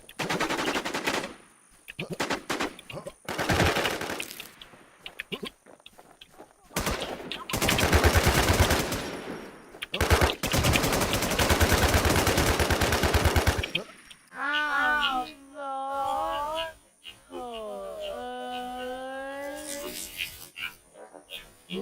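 Bursts of automatic gunfire ring out in a shooting video game, loud rapid volleys separated by short pauses, with a voice heard shouting over the fire.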